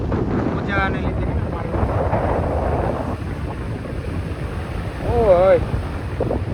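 Sea waves at Madhavpur beach on a rough, windy day: steady surf wash and heavy wind buffeting the microphone, with a few faint whistle-like tones near the end.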